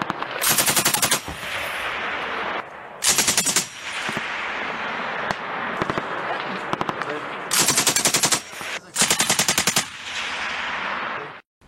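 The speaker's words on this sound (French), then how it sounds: "The weapon's name MAG is an abbreviation for Mitrailleuse d'Appui Général, meaning General Support Machine Gun." An FN MAG general purpose machine gun fires in long, loud bursts of rapid automatic shots, each separated by short pauses, with heavy continuous noise between them.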